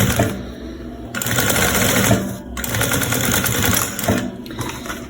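A sewing machine runs steadily at 3.5 stitch length while sewing a fabric baby document case, a dense continuous mechanical whir with brief pauses and restarts, close and fairly loud with no speech.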